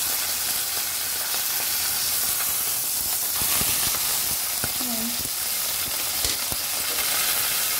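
Fish fries in a small pan in a home kitchen, giving a loud, continuous hissing sizzle throughout, with occasional faint clatters of a utensil.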